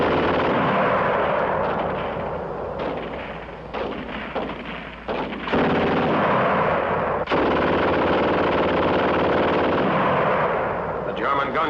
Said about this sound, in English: The German gun shoots fast.